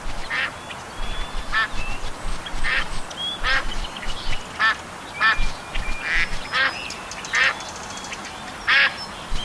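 Ducks quack repeatedly in short, irregular bursts over a steady outdoor hiss in the Duck Dynasty PC video game, several birds calling back and forth at moderate distance.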